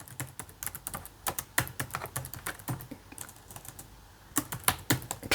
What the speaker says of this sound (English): I can type in the circuit descriptions